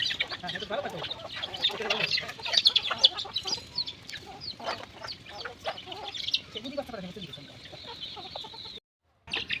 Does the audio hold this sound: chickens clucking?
yes